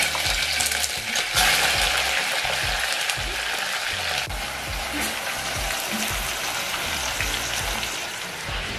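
Spiced chicken sizzles and fries in a pot as it cooks for a stew, a continuous crackling hiss with scraping stirring sounds mixed in, steady and close throughout.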